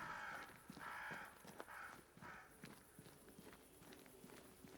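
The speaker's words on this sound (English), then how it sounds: "Crows." Several harsh caws from crows in the video game Banishers: Ghosts of New Eden, spaced through the first seconds, followed by soft footsteps; faint and fairly near.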